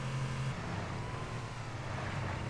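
A vehicle in Halo CE engine droning steadily with a low tonal hum that shifts in pitch as it slides through a drift, continuous and fairly loud with no talk.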